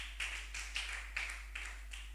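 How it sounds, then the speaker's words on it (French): A church congregation claps together in a steady rhythm, about two claps per second, quiet and somewhat distant, with no voices over it. "Acclamez très fort le nom du Seigneur. Acclame encore pour la vie du prophète."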